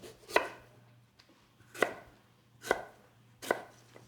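A knife slices thinly through a whole beetroot on a board, four crisp separate cuts spaced about a second apart, close and clear with a faint steady hum beneath and no voices.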